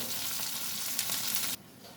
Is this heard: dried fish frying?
yes